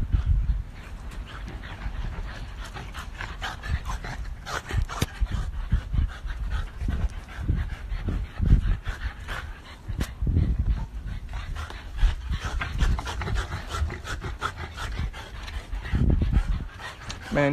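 Dogs pant and whimper close by, a steady breathy rhythm with occasional soft whines and shuffling, lasting throughout at moderate loudness, with no talk.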